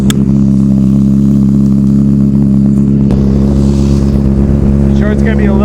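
A 2024 Honda CBR600RR motorcycle engine cold starts and idles loudly and steadily, a dense continuous drone with some clatter from exhaust fitment, running close by throughout.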